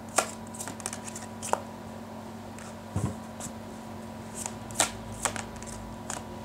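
Oracle cards for a tarot reading are shuffled by hand, close and fairly quiet, with irregular crisp riffles and taps against a steady low background hum and no talking.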